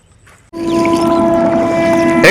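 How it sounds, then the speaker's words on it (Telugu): A loud, steady rumble of a train passing close by near a railway bridge in a village rises suddenly after a brief quiet moment and holds with a droning hum and rattling. "ట్రైన్ పోతుంది అమ్మ, ట్రైన్ పోతుంది."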